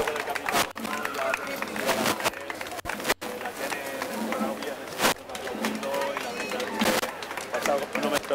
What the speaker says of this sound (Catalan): dona gust, els aplaudiments estos